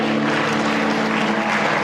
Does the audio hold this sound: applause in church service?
yes